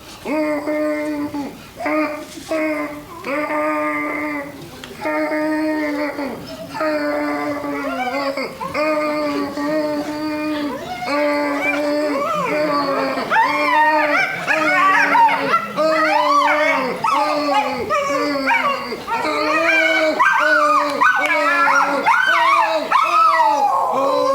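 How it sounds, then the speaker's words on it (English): A dog on a comedy stage howls and yips in a long series of rising, wavering, sing-song cries, loud and close, with overlapping voice-like babbling. "My dog Max joins me on the stage."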